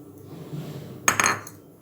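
A spoon stirs black rice batter in a pot as palm jaggery syrup is poured in, with a soft swishing stir followed by a sharp metallic clink and scrape, close and clear.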